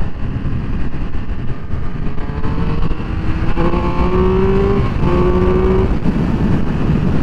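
A 2021 Triumph Speed Triple 1200 RS engine pulls hard under acceleration, its loud steady drone rising in pitch through a climb and easing briefly before rising again, heard close and continuous.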